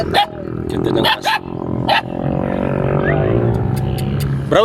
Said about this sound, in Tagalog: Ganda ng aso.